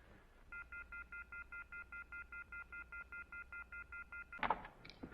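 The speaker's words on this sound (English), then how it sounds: "So Kevin goes up to the phone, starts dialing, he dials 911" A corded telephone from the film Skinamarink being dialed: a steady run of about sixteen evenly spaced dual-tone keypad beeps, clear and close, ending in a brief clatter of handling.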